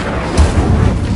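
Incendio fire spell cast in the video game Hogwarts Legacy, a loud, dense whooshing roar of flame with a low rumbling burst that sustains briefly.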